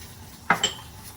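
Ingredients being added and stirred into hot almond brittle candy near 296 degrees, two quick metallic clinks of a utensil against a pot, close and distinct in near silence.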